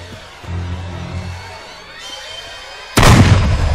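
A gunshot fired at Jason in the video game Friday the 13th: quieter game noises and a low rumble give way near the end to one sudden, loud blast whose noisy tail rings on.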